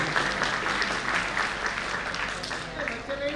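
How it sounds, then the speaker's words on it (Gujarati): Sustained applause from an audience at a felicitation ceremony, a dense, steady wash of clapping hands throughout, with voices faintly mixed in. "જોરદાર તાળીઓથી સીટી ટોડિયા સાહેબને આપણે વધાવીએ"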